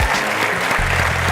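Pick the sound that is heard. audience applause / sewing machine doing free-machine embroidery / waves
audience applause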